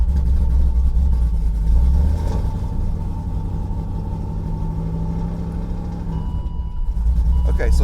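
A Pontiac G8 GT showing check-engine and tire-pressure warnings idles with a steady, deep low rumble close by, while people talk over it.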